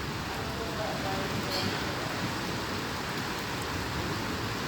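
Steady midnight rain falling in Sylhet, Bangladesh, a dense, even hiss of drops on surfaces that holds at the same loudness throughout, with no distinct thunder.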